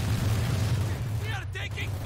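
Grenade blasts rumble in a Company of Heroes 2 battle at Stalingrad as a continuous low, booming roar, with a brief shouted voice near the end.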